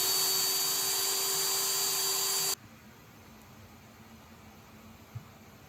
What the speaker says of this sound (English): Let the drill press up on.